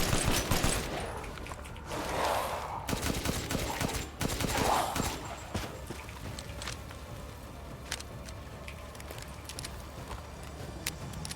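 Pistol gunfire in the video game Resident Evil Village: rapid bursts of sharp shots and clattering impacts across the clip, moderately loud amid game ambience with no speech.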